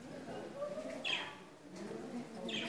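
Small birds at a butterfly farm in Istanbul chirping in short high calls, moderately close, over a steady indoor background hum with some low voice-like murmur.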